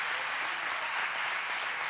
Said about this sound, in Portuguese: Pode aplaudir, Patrícia.